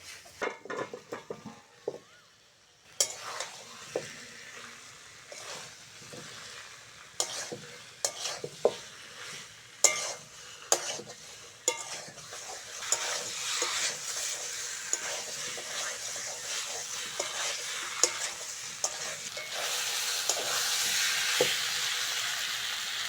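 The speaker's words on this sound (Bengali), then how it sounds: "আলুটা ভালো করে কষে নিয়েছি।" Fried new potatoes stirred and sautéed in spice masala for aloo dum: after a quiet start, scraping and clattering stirs come at irregular intervals, and the hissing sizzle grows louder and denser toward the end.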